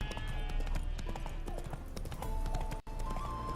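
Horse hooves clip-clop at a steady walking rhythm in The Witcher 3 video game, close and clear, layered over faint tonal game ambience.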